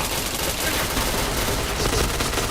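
Gunfire in the first-person shooter Point Blank sounds as rapid, dense automatic bursts that fill the whole moment, loud and continuous, with faint gamer chatter mixed underneath.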